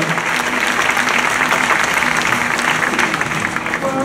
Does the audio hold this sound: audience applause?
yes